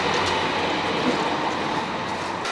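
Steady rumble and rattle of a passenger train riding along the rails on the way to Florence, Italy, a continuous close interior drone with no talk.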